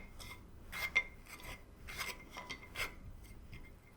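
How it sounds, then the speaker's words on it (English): Knife scraping and spreading butter across a biscuit, heard as soft, close rasping strokes in a few short bursts with light utensil clinks, quiet and intimate with no talking. "put heaps of butter on the biscuit"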